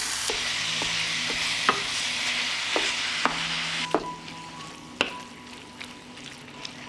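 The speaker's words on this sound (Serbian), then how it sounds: "Mast se istopila i sada ću propržiti mleveno meso." Minced pork fries in melted lard in a pan with a steady broadband sizzle, punctuated by several sharp utensil knocks and scrapes of stirring spread through the clip; no voices.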